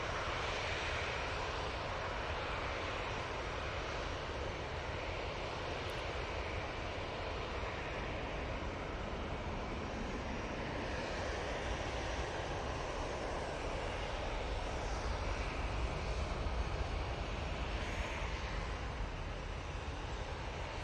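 Jet2 airliner engines roar steadily at Manchester Airport, a loud continuous broadband drone that holds unbroken for about twenty seconds with no talking.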